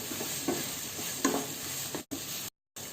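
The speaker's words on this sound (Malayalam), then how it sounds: "അപ്പോൾ ഇനി ഇതെല്ലാം കൂടി നന്നായിട്ട് അങ്ങോട്ട് മിക്സ് ചെയ്തെടുക്കാം." Chicken fried rice ingredients being stirred in a pan, a steady soft sizzle broken by a few scraping stirs, close and alone, with a brief dropout near the end.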